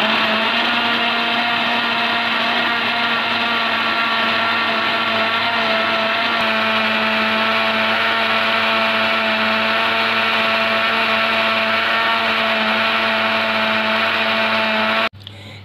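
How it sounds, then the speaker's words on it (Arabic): A blender whirs at a steady high pitch, mixing an avocado and milk smoothie, running continuously and loudly close by before cutting off at the very end. "هنشغل الخلاط ونضرب المكونات مع بعض."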